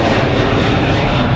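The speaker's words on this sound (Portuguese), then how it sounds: "eu falei que o avião passa aí" A fixed-wing airplane roars steadily overhead near Congonhas airport in São Paulo, a loud, dense, unbroken engine rush filling the whole moment with no voices.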